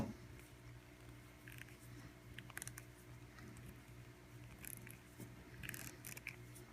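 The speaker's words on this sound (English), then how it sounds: "At this point, I'm just cutting the insulation off." Snips and small clicks come from cutting the insulation off an extension cord wire, quiet and close, scattered irregularly over a low background hum.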